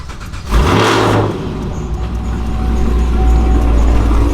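A 5th gen Camaro SS V8 cranks and fires up with a sharp, loud burst of revs, then settles into a steady, rumbling idle close by.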